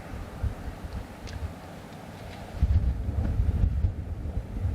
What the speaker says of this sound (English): it is quite gusty out here today.